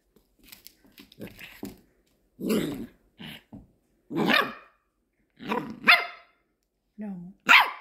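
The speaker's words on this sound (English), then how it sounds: "Don't bark at her." A dog barks and growls in several sharp, loud bursts with short pauses between them, while someone talks to it close by.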